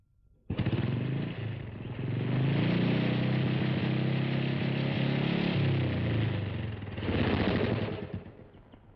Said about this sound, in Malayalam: ബൈക്കിന്റെ ശബ്ദം കേട്ടപ്പം